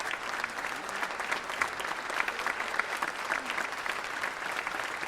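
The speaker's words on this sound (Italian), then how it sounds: "L'applauso scrosciante" Thunderous applause filling a theatre at a civic ceremony, dense and even throughout, loud and enveloping with no voices on top.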